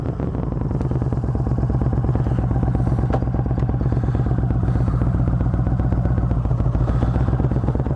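A Yamaha V Star 1300 cruiser fitted with Harley handlebars rumbles along on the road, its V-twin engine pulsing steadily and loudly throughout with a low, even throb.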